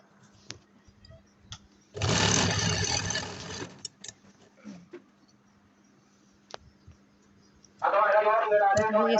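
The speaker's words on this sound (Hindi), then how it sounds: "अब इसको मैं भरा टांका रख के सिलाई लगा लेती हूँ सीधी सीधी।" A sewing machine runs straight full stitches along a kurta seam in two steady bursts, one about two seconds long and a shorter one near the end, with quiet handling clicks in between.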